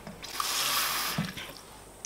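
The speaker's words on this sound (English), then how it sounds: "So I essentially just put some water in." Water is added into a container for washing makeup brushes, a close splashing pour with a few drips and small knocks, brief and clear, with no talk.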